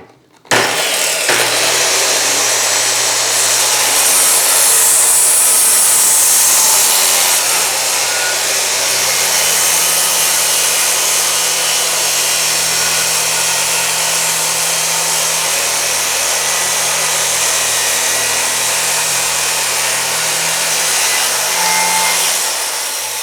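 A power saw runs a long, steady cut through a door guided by a cut-off jig, a loud continuous roar and hiss after a brief start-up, holding close and even for about twenty seconds.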